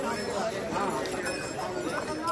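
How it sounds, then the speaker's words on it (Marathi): Horses' hooves clop on a muddy, slippery mountain trek path to Yamunotri in a steady, busy patter, heard under constant voices and crowd noise. "घोडे बघ एवढे तिथे."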